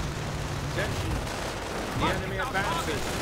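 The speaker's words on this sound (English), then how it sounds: "Rifleman and Knights Cross continue to fire away." Rifle fire from riflemen and Knights Cross units in a strategy video game crackles as scattered shots and muffled blasts under a commentator's steady talk.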